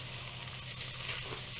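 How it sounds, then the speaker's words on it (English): Onions and carrots sizzle steadily in a hot frying pan, a close, even hiss of frying with no voices. "So about that level of sizzling is what we want."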